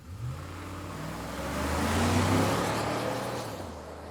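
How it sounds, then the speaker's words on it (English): Car pulling away and driving off, engine revving up and swelling in loudness before easing as it moves off, with no voices. "I drove off in the car while he held the shot."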